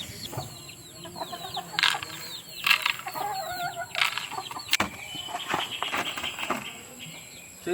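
Hens and chicks in a backyard flock, with a mother hen among her chicks, cluck and peep in scattered bursts at moderate volume against a steady rural background. No one speaks.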